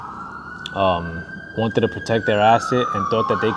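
Emergency vehicle siren passing outside, a steady tone sliding slowly downward, moderately loud behind someone talking close to the microphone.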